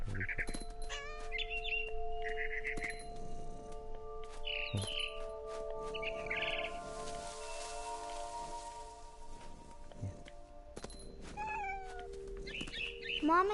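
A cat meowing in the game What Remains of Edith Finch, several short meows scattered among bird chirps and a patter of rain over a steady ambient hum, with no talk.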